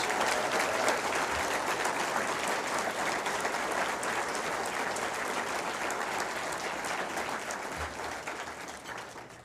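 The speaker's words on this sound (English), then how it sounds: "Can we please have one last round of applause for all our 2026 WTCS ambassadors?" An audience applauds ambassadors at a college system ceremony, with a long, even stretch of dense clapping from a crowd that slowly fades toward the end.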